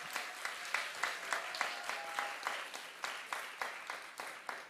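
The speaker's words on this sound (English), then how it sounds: "Let's please give her a round of applause." An audience at a temple gathering applauds a 15-year-old student, a dense, steady round of clapping with rhythmic accents, close and fairly loud throughout.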